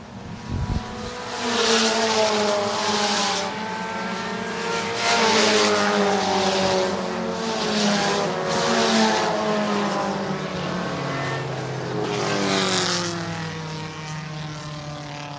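Vintage stock cars race on the Shelby County Speedway oval, engines roaring loud and continuous as the pack sweeps past, with rising and falling revs and overlapping engine notes from several cars.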